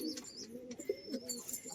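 Pigeons coo softly inside a home loft where some birds sit on eggs, low throaty rolling calls repeating and overlapping, fairly faint and close, with a few light chirps and no talking.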